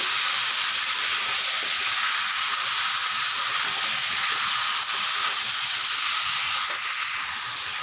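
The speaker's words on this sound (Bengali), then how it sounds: "এখন ভালো করে নাড়াচাড়া করতে হবে" Chicken feet frying in a pan give a constant loud sizzle and hiss that holds steady throughout, with faint stirring scrapes beneath.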